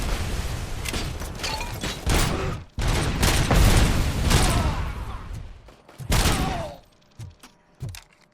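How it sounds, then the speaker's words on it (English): A grenade shot and exploding in the video game Robocop: Rogue City, with loud sustained rumbling blasts and bursts of gunfire filling the scene, then fading into a few separate thuds. "I shoot the grenade, is that a thing?"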